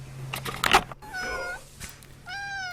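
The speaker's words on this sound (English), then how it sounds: "Hey, sexy cat." A cat meows several times nearby, with a short rising call followed by a longer drawn-out meow, over a quiet indoor background with a faint hum.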